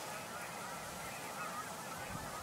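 Canada geese honking in a steady, distant chorus over a constant background hiss, with no single call standing out.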